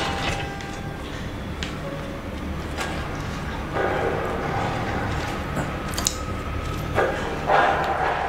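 Zombie dogs in the Resident Evil 2 Remake video game bark and snarl in short bursts over a steady, noisy game soundscape.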